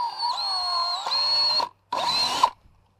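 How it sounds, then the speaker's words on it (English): Power drill boring a hole in a Subaru body panel, two close, loud bursts of whining motor, the first long and steady, a short pause, then a second briefer run that spins down. "And slowly drill."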